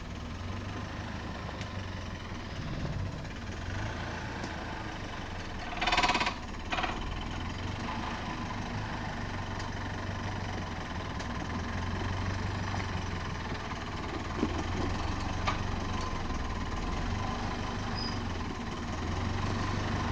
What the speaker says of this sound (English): I'm just relying on idle torque and anti-stall feature to keep the vehicle coming up